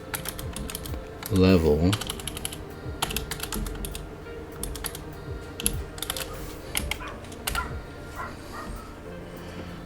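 Keys clatter on a computer keyboard in quick bursts across the clip, moderately close, with a dog's brief yelp near the start and faint speech in the background.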